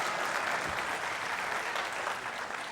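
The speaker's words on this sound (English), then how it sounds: "that's not applause for me" Audience at a town hall meeting applauding, a dense, even round of clapping from a crowd throughout the short stretch, fairly close and unbroken, with no speech over it.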